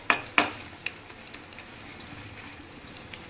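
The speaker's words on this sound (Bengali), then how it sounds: "আবার দেখুন এই নেড়ে যাচ্ছি সমানে" A utensil stirs taro greens with chopped chilli in a pan, giving a few sharp metallic clinks at first and then a string of light taps and scrapes, close and clear with no voice.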